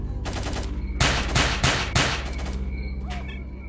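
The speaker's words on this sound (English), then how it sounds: "They shoot at me, I shoot back." Gunfire in the video game S.T.A.L.K.E.R. Lost Alpha: loud bursts of automatic shots in rapid, uneven volleys, with a few heavy single cracks standing out, then fading to a softer rattle and scattered distant pops.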